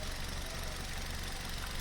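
A 2008 Hyundai i10 Magna engine idles with a steady, even hum and faint mechanical rattle, heard alone with no voices.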